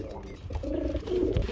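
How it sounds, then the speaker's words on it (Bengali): Pigeons of a prolific breeding breed coo in short, soft, throaty phrases close by in a pigeon market, with a voice talking alongside. "হ্যাঁ, 12 মাসে 13 জোড়া বাচ্চা করার কবুতর, গুল্লা কবুতর"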